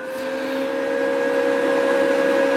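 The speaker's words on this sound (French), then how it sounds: "Maintenant, je vais faire avancer le fil dans la torche. Alors, j'allume l'appareil." MIG welding machine switched on and running, a steady mechanical hum with a clear tonal whine, close and constant, with no talk.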